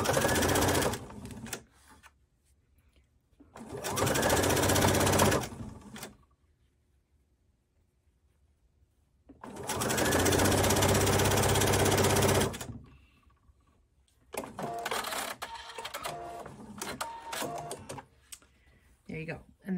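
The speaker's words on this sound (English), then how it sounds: "we're going to stitch along the side here a bit so you see what the top stitching will look like" A sewing machine top stitching along the side of a fabric waist sash runs in four loud bursts of rapid stitching, separated by silent pauses.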